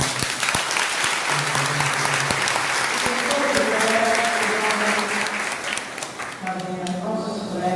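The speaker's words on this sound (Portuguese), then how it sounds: "Uma salva de palmas." An audience at a Divino Espírito Santo festival breaks into a loud, full round of applause, dense clapping that runs several seconds and then thins out toward the end as voices and sustained tones come in.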